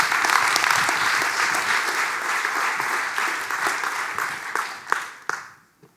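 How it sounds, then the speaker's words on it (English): An audience at a graphic design and activism talk gives a loud round of applause for speaker Ruben Pater, dense clapping that holds steady, then thins to a few last claps and dies away. "Please give a round of applause for Ruben Pater"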